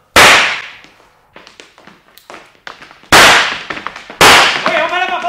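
Gunshots in a French radio drama: several sharp, loud cracks ring out close by, separated by scattered smaller pops and clatter, with no speech in between.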